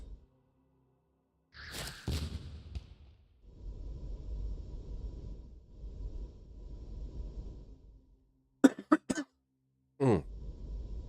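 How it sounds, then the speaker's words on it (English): A single harsh, close cough breaks through, followed by breathy rustling, a few sharp snorts and throat-clearing sounds, and another short cough near the end. "that cough will probably never go away."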